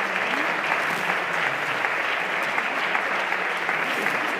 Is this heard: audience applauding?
yes